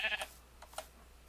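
Minecraft sheep bleat faintly twice in quick succession, short nasal calls over a quiet background.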